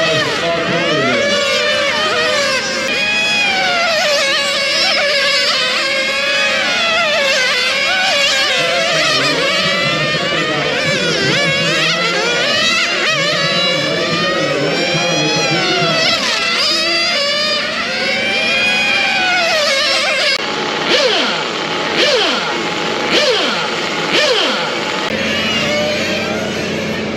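Radio-controlled race cars tear around the track at the 2024 Cow Patty Classic, a constant layered whine of small motors rising and falling as they pass, with an announcer talking over the racing.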